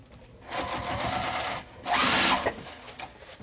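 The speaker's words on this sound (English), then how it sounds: "I'm going to top stitch across there" Sewing machine running close up as it top stitches a fabric crossbody bag with a lengthened stitch, two steady bursts of fast mechanical whirring separated by a short pause.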